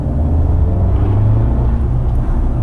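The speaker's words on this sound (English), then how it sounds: "That exhaust note is just addictive." Abarth 595 with a 1.4 litre turbo engine droning steadily while driving, a loud, continuous low exhaust rumble that holds without break through the passage.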